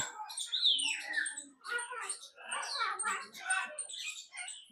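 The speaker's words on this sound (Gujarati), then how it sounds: "સેનેગલ પોપટ" A Senegal parrot in a zoo aviary at Kamati Baug, Vadodara, gives a run of shrill, wavering squawks and whistles in quick repeated bursts, fairly near and alone.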